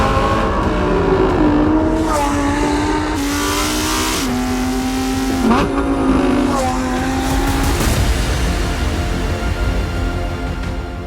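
A Lamborghini Huracan EVO RWD's naturally aspirated V10 wails up and down through repeated gear changes, loud and close from inside or beside the car, rising pitch sweeps broken by quick shift cracks.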